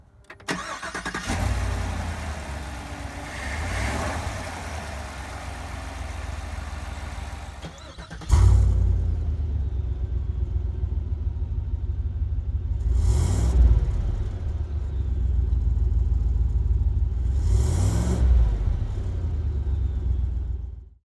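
A GMC Yukon XL Denali's 6.2-liter V8 starts and idles with a deep, steady rumble, revving up a few times in loud bursts before settling again.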